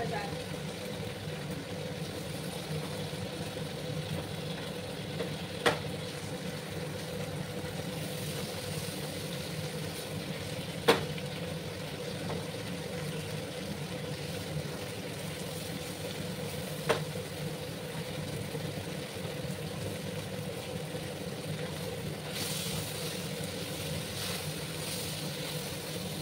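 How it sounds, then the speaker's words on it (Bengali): Gram flour (besan) dry-fries in a pan, making a faint, steady hiss with a few soft clicks from stirring spread across the whole stretch. "বেসনগুলোকে ভালো করে আমি ভেজে নেব। যাতে করে বেসনের এই যে কাঁচা গন্ধটা আছে সেটা চলে যায়।"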